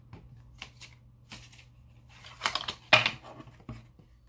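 Deck of tarot cards being shuffled by hand, a few soft riffling and sliding bursts with brief pauses, close and fairly quiet.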